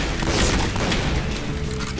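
A heavy explosion boom in the online shooter game Point Blank, a loud, dense blast that fills the brief moment and rumbles on without speech.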